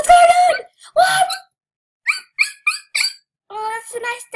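A person imitates a dog, giving a quick series of short, yappy barks and whimpering sounds in bursts, close and loud, with pauses between them.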